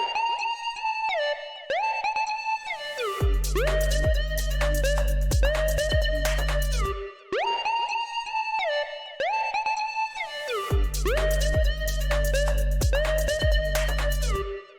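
Synth lead from a track: loud, bright pitched stabs with sliding notes in a repeating phrase, joined by a heavy sustained bass layer, with no talking.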